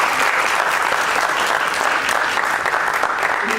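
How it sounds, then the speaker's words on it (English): Dense, sustained applause from a conference audience after a keynote talk, steady and loud throughout with a broad crowd wash and no gaps. "A round of applause for David Collien"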